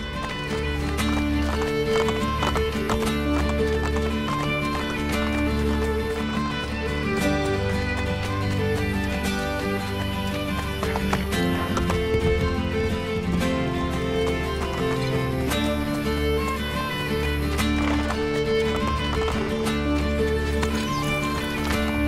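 Galloping horse hooves in Assassin's Creed Brotherhood, a steady rapid drumming carried under a continuous dense game music score for the whole stretch, with no voices.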